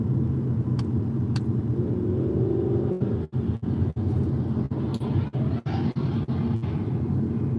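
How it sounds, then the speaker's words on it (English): A car engine rumbles steadily as the car travels along an interstate highway, a loud, continuous low drone with brief dips and clicks in its second half and no voices. "That car sounds terrible."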